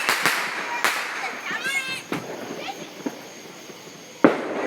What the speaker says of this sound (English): Ooh, see, they shot a gun.